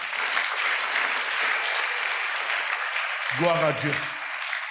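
A church congregation claps steadily throughout, a dense wash of applause filling the room, while a voice briefly sings or calls out near the end.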